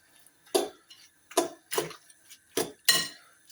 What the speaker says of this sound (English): and then beat an egg